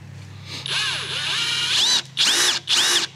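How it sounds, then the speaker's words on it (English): A big Hercules power driver sinks a self-drilling GRK screw into wood, a loud whining motor run that dips under load, then two short bursts as the screw is driven home, close up. "Let's see if this big Hercules will drive her in there."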